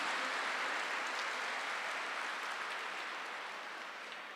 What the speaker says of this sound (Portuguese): Uma salva de palmas para Jesus Eucarístico.